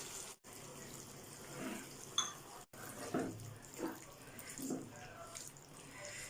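Water is poured into a simmering curry gravy in a home kitchen, a soft liquid splashing and trickling over a few seconds, with faint talk in the background.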